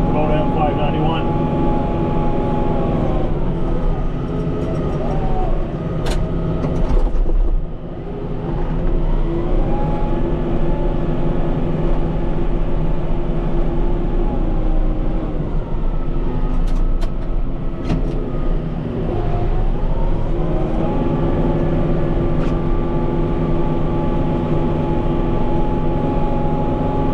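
Kubota M591 tractor plowing deep snow in a commercial parking lot, its engine a loud, steady drone heard from inside the cab that dips briefly once before settling back into a continuous hum.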